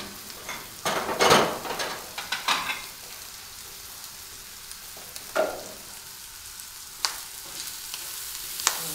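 Ham fries in a pan without added oil, rendering its own fat. A crackling sizzle flares in bursts with a few clatters of a utensil, then fades to quieter, intermittent spits.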